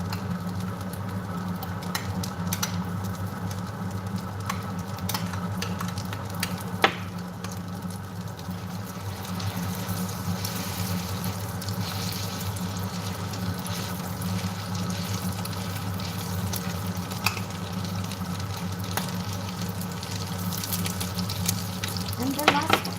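Meat and tofu patties (wanja-jeon) pan-frying in oil, a steady, close sizzle that holds evenly throughout with a few faint clinks of a utensil.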